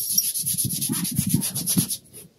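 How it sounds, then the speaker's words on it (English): A boat's cockpit wheel being sanded by hand on fresh paint: a quick series of short, raspy scrubbing strokes, close and fairly loud, trailing off at the end. "I'm sanding this wheel in the cockpit on the freshly painted paint"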